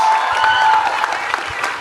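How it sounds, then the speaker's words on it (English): Audience applause for three women on stage at a live talk event, a dense burst of clapping at close range with some cheering, loud and sustained for under two seconds. "Can we have a rousing round of applause for the three wonderful women on stage?"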